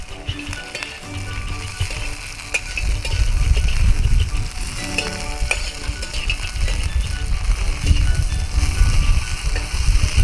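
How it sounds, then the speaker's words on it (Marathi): Steady crackling and sizzling of green chilies roasting in a hot pan goes on throughout, with scattered sharp pops over a low background rumble. "असा तडतड आवाज येतोय."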